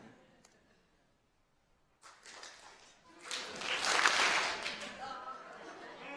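An audience clapping together on a count at a talk on jazz and decision making, starting after a near-silent pause and swelling into a dense burst of hand claps and crowd noise, then tapering off.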